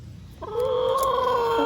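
A talkative backyard hen cackles loudly up close, a sustained tonal call starting after a brief pause and holding steady to the end.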